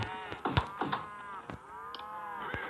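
Cattle in the video game Survivalcraft 2 moo repeatedly, several drawn-out lowing calls following one another at moderate volume with no talk over them.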